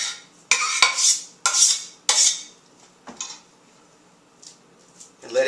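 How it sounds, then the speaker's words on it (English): Cooked polenta being patted and pressed down into a bake pan, giving several clattering taps of utensil against the pan in quick bursts, followed by fainter scraping and a final knock. "I'm going to now put the polenta into a bake pan. I'm going to let it shape up. See, I'm going to pat it down."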